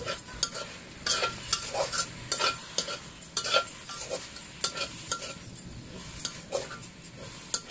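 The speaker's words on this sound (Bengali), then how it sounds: "ভালো করে নেড়ে এই নাড়ার ভেতরে কিন্তু এই শাকটা রান্না হয়ে যাবে" A spoon or spatula scrapes and stirs leafy greens (shaak) in a pan, with repeated sharp scraping strokes over a soft background sizzle, close and fairly steady.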